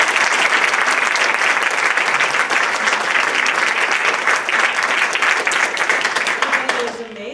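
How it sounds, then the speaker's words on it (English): A room full of people at a panel discussion breaks into loud, sustained applause, thick and steady before it thins out and fades at the very end. "can we give them a quick round of applause?"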